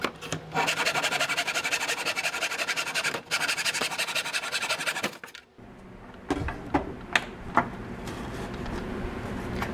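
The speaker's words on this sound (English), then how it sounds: "I'm going to cut this scrap piece of fretboard" A saw rasps through a scrap piece of wooden fretboard for a cigar box guitar, in loud steady strokes for about five seconds with one brief pause, followed by lighter scrapes and taps.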